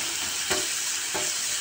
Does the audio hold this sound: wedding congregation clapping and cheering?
no